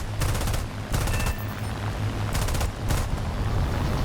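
Spitfire Mk VB/Trop 7.7 mm machine guns in War Thunder fire in four loud rapid bursts, each about a third to half a second long, over a steady droning aircraft engine, with no talking.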